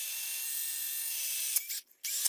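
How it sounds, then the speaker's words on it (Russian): A drill grinds steadily into a plastic grass trimmer spool, a loud continuous high whine that cuts out briefly near the end before starting again. "сейчас мы его просверлим под шпиндель на мотокосу"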